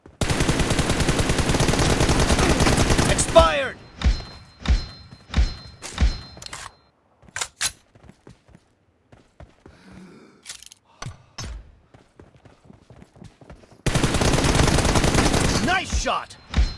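Bursts of M416 automatic rifle fire from the PUBG Mobile video game, sustained volleys at the start and end framing a middle stretch of separate sharp shots and thuds, loud and close.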